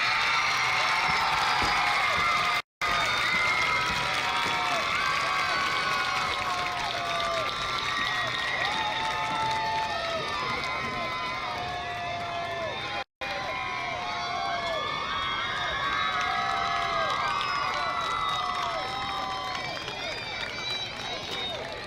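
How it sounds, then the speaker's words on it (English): A crowd at a high school football game cheers and applauds for the 2023 Homecoming Queen and her court, with sustained clapping, shouts and whoops from a large outdoor audience, steady and fairly distant, with a few voices carrying above the roar. "let's have a big round of applause for our Homecoming Queen and her court"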